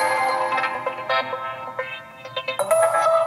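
The Arrow ringtone on an HTC One phone, a short melodic electronic tone of quick stepping notes lasting a few seconds, played close with a faint room hum beneath.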